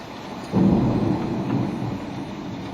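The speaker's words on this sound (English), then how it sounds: "How would there be hail in summer and rain?" Summer hail storm with rain in Aurora, a sudden heavy roar of hailstones and rain beating down, loud and close, swelling then easing slightly, with no voices.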